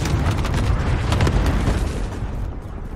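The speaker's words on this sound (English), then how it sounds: "Enemy cluster strike incoming. Take cover." Cluster strike explosions in Call of Duty Modern Warfare, a loud rumbling barrage of overlapping booms that rolls on steadily for about three seconds before easing slightly.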